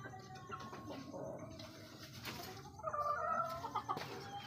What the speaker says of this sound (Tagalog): Kaya yung mga manok natin, ayan, gala pa rin,